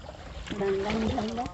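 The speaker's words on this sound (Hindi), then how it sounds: "तो अभी टर्निंग होते डोंगा है, देख सकते हो।" Wooden dugout boat (donga) turning on the water, with soft splashing and paddling under voices talking nearby, all in a short stretch.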